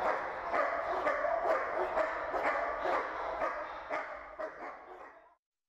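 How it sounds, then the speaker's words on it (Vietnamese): Aggressive guard dogs bark in rapid repeated bursts, close and loud, with several overlapping voices. The barking keeps going for a few seconds and then cuts off. "Chúng ta vừa rồi mấy con chó này con chó dữ."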